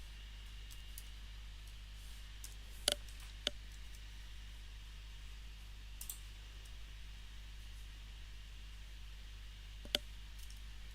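A computer mouse clicks a handful of times at irregular intervals, sharp and isolated, close and fairly quiet over a steady low room hum with no talking.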